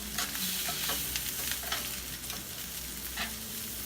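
Head-on shrimp sizzling in a pan of oil for paella, a dense steady fry close by with occasional stirring scrapes, alone without talk.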